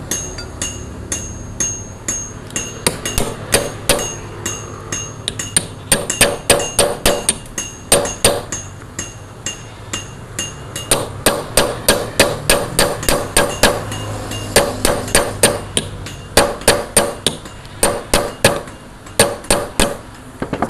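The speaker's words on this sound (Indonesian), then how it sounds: "Sambil diketok sambil diputer ya." Rusted bolts on a Panasonic dynamo being hammered loose, a rapid series of sharp metallic ringing strikes in irregular bursts, loud and close, with no talking.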